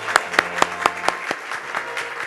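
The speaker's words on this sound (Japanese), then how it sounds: "皆様今一度大きな拍手をお願いいたします。" Scattered claps from an audience at a Japanese agricultural newspaper advertising award ceremony, a handful of sharp distinct hand claps in a loose rhythm that thin out and fade, over a low steady room hum.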